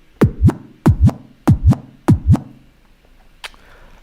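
A kick drum sample is scratched back and forth on a DJ crossfader scratch tool, four loud paired swooping baby-scratch strokes in a steady rhythm, then a faint lone tick near the end.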